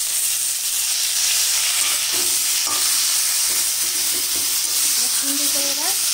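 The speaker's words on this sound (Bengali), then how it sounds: "এবার এটাকে একটু ভেজে নেব" Nigella seeds fry in hot oil in a pan, giving a loud, continuous sizzle with a few faint scrapes of stirring near the end.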